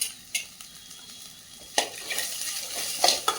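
Onion and green chili fry in a pan for a sambar of white pumpkin, a steady soft sizzle broken by a few sharp stirs and clinks of a utensil against the pan, with no talk.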